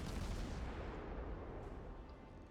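A naval artillery broadside thunders in the World of Warships video game, a dense, rumbling roar of heavy guns that rolls on and slowly fades over a couple of seconds, heard fairly quietly with no talking.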